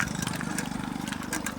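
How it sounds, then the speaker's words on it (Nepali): A motorbike passing close by on a village road, its engine puttering in a quick steady pulse for a brief moment before fading. "बाइक गयो गाइज भर्खरै"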